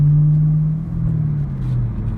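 A 2010 Camaro SS/RS V8 pulls hard in third gear from inside the cabin, a loud, steady low engine drone whose pitch shifts slightly as it accelerates, with no talking.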